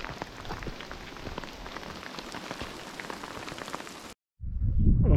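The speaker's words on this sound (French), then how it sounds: "C'est le retour de la pluie" Steady, dense rain patters down on a surface for several seconds during a mountain trail race in the Pyrenees, then cuts off abruptly and gives way to a low rumbling noise.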